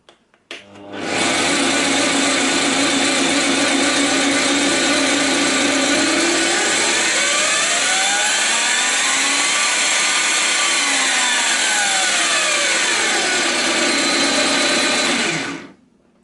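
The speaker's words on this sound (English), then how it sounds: "you can hear that the old style machine is definitely quieter and smoother sounding than the brushed, more powerful alternative here" Benchtop drill press motor switched on and running at close range, a loud steady whine with a pitch that sweeps up and back down, then cutting off abruptly, no talking.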